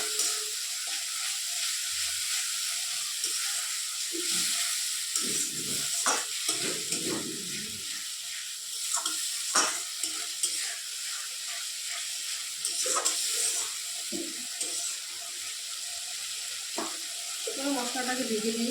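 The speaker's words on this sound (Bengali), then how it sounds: "মশলাটার মধ্যে একটু জল দিচ্ছি, যাতে ভালো করে এটা করে মিশে যায়।" Spice paste for a spicy taki fish curry sizzles in a pan as a little water is added, giving a continuous close hiss broken by intermittent scraping stirs and soft splashy bursts, with no speech.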